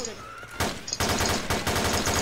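Rifle fire in the zombie video game Japanese Blade starts after a short lead-in as loud, dense volleys of repeated shots. Several bursts follow one another in quick succession.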